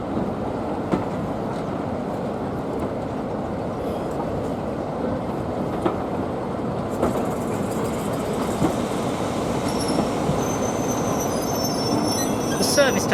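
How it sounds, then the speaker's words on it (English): A Class 33 Crompton diesel locomotive, number 33109, leads a top-and-tailed passenger service past at a distance, a steady rumble of wheels and rail noise with faint squeals and clatter, no talk. "The service to Hayward is led by Class 33 Crompton 33109."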